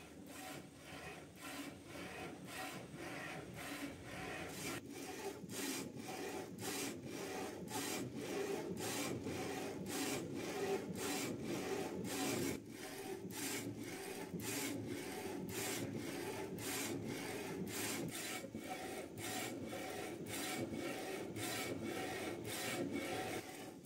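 A small rotary UV printer prints a logo onto a cylinder with a steady mechanical whir and a rapid, regular ticking pulse from the carriage passes, running continuously for the whole stretch with no speech.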